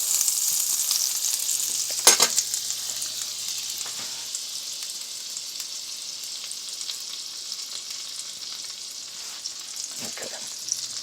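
Butter and oil sizzle steadily in a frying pan while pancakes are being made: a loud, continuous close-up hiss with a few brief bursts of stirring or spatter, and no talking.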